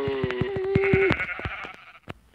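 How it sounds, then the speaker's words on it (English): A sheep bleats in the video game Minecraft, one loud, close, wavering call lasting about a second. A run of rapid clicking taps follows, with no one talking. "Sheep!"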